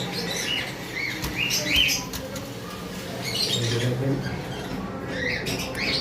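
Hyper red pineapple conures and cockatiels call in an aviary, with repeated squawks and chirps at close to middle distance plus some wing rustling, over a low background hum.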